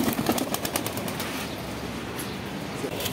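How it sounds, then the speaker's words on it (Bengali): A freshly bathed pigeon with a trimmed tail is let go and bursts into a quick flurry of wing flaps. The flapping fades into soft, faint background bird sounds. "এখন ছাড়তেছি কবুতর"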